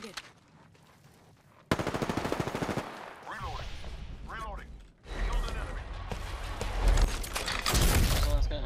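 Gunfire in the video game Apex Legends: bursts of rapid automatic fire, then a quieter stretch of game effects, then more dense, loud shooting, with voices under the shots.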